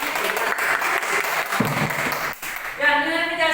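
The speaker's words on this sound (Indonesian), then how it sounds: "terima kasih tepuk tangan untuk semuanya." A classroom group applauds everyone together, with steady close clapping from many hands mixed with children's voices, fading briefly before a louder burst at the end.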